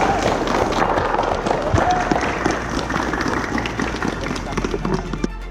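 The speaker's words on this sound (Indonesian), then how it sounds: "Oke, tepuk tangan." A group of children clapping their hands during an arts-based training activity, busy uneven claps mixed with crowd noise and voices, moderately loud throughout.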